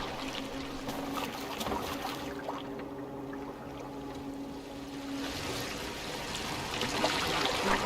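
A boat moves through water in Assassin's Creed Valhalla, with a continuous wash of water rushing and lapping along the hull, steady and moderately loud, swelling slightly near the end with no talk.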